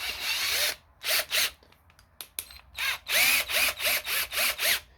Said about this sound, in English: we're going to do a drill test on this video because my workbench is wood